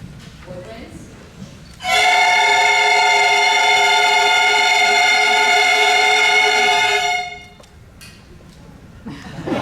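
A beginning middle school band's woodwind section holds one loud, steady unison note for about five seconds, with quieter room noise before and after.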